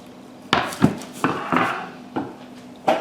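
A string of sharp wooden knocks and clatters, about six spaced hits, as an avocado is shifted onto another chopping board in a kitchen.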